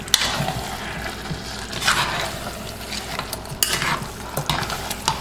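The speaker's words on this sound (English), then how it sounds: "So now you want to mix everything up." A Haitian crab legume mixture is stirred in a pot, with soft wet scraping and clinking strokes over a low simmering hiss, close and without talk.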